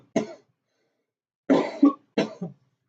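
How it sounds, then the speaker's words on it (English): A person coughs nearby: one single cough, then after a pause two quick double coughs, each harsh and throaty against silence. "Sorry, still can't get over this cough."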